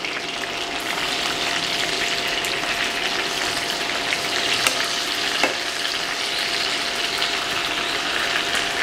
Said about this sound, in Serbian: I sada piletinu okrećemo na drugu stranu i nastavljamo da je pržimo.